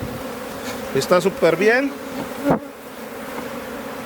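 Swarm of honeybees buzzing loudly and close as they are shaken off a hive frame, a dense steady drone with a person speaking briefly over it.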